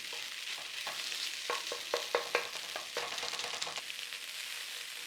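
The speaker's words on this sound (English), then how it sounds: "So we just need to push it around a little bit in the pan" Egg fried rice sizzles in a hot pan while a utensil pushes and scrapes it around, giving a steady fry with irregular close clicks and scrapes and no talking.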